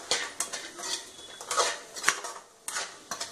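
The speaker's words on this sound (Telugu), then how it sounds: "2 మినిట్స్ ఇలా వేయించుకుందాం, ఆ వేసిన సాస్ అంతా పట్టేలాగా" Capsicum and fried idli pieces stir-fried in sauce, heard as a rapid series of close metallic scrapes and clanks of a spatula against the pan, irregular and fairly loud, with faint sizzling beneath.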